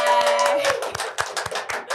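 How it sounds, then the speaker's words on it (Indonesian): A small podcast audience claps in a short, uneven run of separate hand claps close to the microphone, with a faint voice at the start. "Tepuk tangan semuanya buat Clara."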